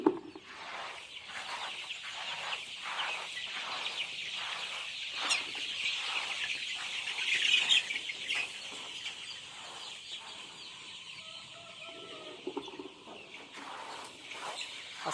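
Sonali chickens in a poultry shed with rice-husk litter make soft, scattered clucks over a steady, rhythmic background, faint and fairly distant, with no talking.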